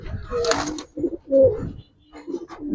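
Giribaz coloring pigeons coo in soft, repeated low throaty calls, close by, with a burst of voices talking early on and between the coos.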